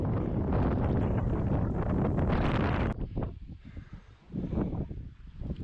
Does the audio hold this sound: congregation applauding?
no